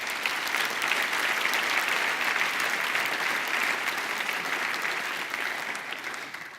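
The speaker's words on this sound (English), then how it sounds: "And if you would join me again in having a big round of applause," Steady, fairly distant audience applause at an enterprise architecture conference, a uniform wash of many hands clapping that holds for several seconds before gradually easing.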